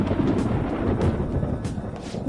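Low, continuous thunder rumbling in the Persona 5 Royal video game, a deep rolling roar with a few brighter crackles, loud and without speech.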